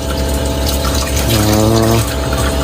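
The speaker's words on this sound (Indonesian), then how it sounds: "yang mesin pompanya yang kita temukan kemarin sedikit agak ribut ya. Kedengeran lah suaranya sampai ke sini" A campervan shower's water pump motor hums steadily and close, with rushing water and a brief higher-pitched surge in the middle.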